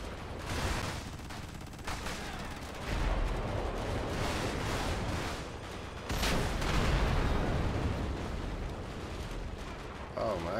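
Dense, sustained gunfire and explosive blasts in a GTA 5 aircraft carrier mod battle, roaring continuously for the whole stretch with heavier bursts near the end, a voice talking faintly underneath.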